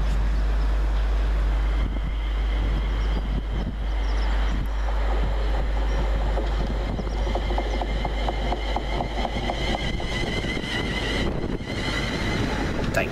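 A British Rail Class 350 electric train running as 2H58 from London Euston rumbles into Rugeley Trent Valley station, a steady low roar with heavy wind buffeting on the microphone throughout.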